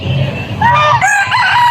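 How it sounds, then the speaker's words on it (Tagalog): A bantam rooster crows loudly in a rising, drawn-out call, with low rumbling background noise beneath it. "May bantam na manok."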